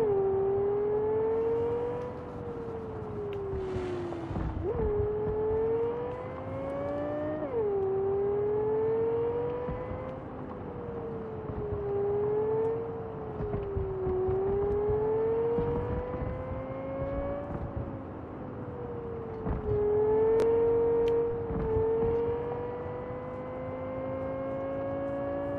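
Engine of the Caliburn car in Cyberpunk 2077, a smooth whirring drone that rises and falls in pitch through repeated shifts as the car accelerates, steady and fairly loud throughout.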